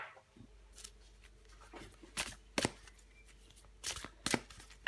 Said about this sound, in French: Je vais encore prendre une carte pour vous